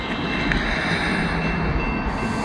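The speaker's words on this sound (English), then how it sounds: "We got a northbound CSX train coming down the line here" A northbound CSX freight train approaches on the line at a street crossing, a broad steady rumble of rail noise holding level throughout, with no voices.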